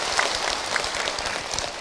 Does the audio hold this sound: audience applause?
yes